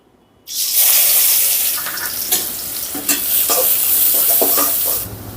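Chopped onions hit hot oil in a pan for street-style veg noodles, setting off a sudden loud, close sizzle that stays strong while occasional stirring clicks and scrapes cut through it. No one speaks.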